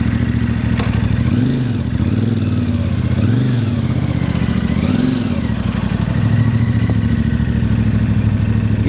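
A CFMOTO 450MT motorcycle idles steadily for several seconds, a close, loud, even mechanical rumble with light clatter and a few brief swells in pitch.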